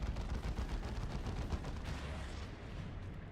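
Lascannon turret in Dawn of War II fires amid a dense, rumbling battle: heavy booming shots and explosions overlap continuously at loud, sustained volume, with no talk over them.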